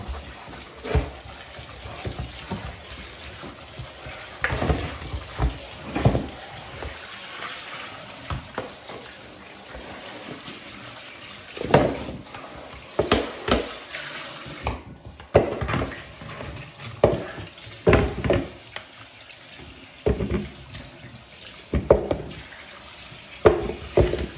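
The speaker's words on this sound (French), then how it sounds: "Je vais rincer mes légumes." Peeled potatoes and other vegetables get rinsed under a running kitchen tap, with a steady water hiss broken by irregular splashes and knocks as they are handled in the sink.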